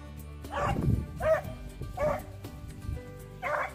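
Hunting dogs on a rabbit chase in Delaware give a series of four yelping, baying barks spaced about a second apart, at moderate distance outdoors.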